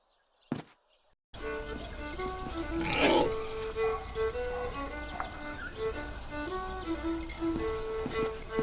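Pigs grunt and snort in a farmyard scene from the adventure game The Dark Eye: Chains of Satinav, a dense ongoing chorus of close, loud animal noises over steady background ambience after a brief quiet start.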